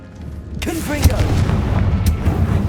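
A Confringo blasting spell is cast in the game Hogwarts Legacy: a short magical whoosh with a tonal swirl, then a deep booming impact that rumbles on, with a second crack near the end.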